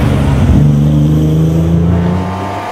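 A loud, close engine drone from racing cars, a Ford Capri fighting a TVR for the lead, holds a steady pitch, swells briefly early on and then eases slightly near the end.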